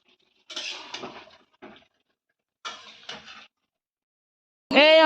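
Metal pots and pans clatter and clink in a home kitchen where meat is being cooked, in short separate bursts with silent gaps between them, then a loud scraping sound at the end.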